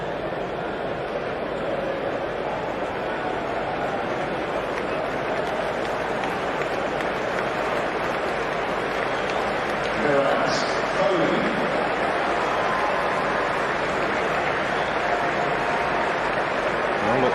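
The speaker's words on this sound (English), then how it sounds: "Lots of applause" Steady applause from a large crowd at an India vs England cricket Test match, a continuous broad wash of clapping at distance with a slight swell near the end as the batting captain walks out.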